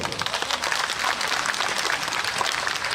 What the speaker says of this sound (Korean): 여러분 큰 박수 한 주십시오